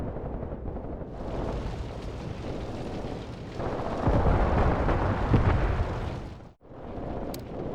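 Mortar fire and explosions on a battlefield in Graviteam: Pivot Point, heard as a dense, continuous roar of rumbling blasts and distant booms with a heavier surge midway and a brief break near the end.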